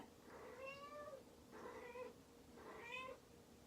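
A cat meows three times at a steady pace, each call a drawn-out, rising-then-falling whine, close by against a faint background hiss.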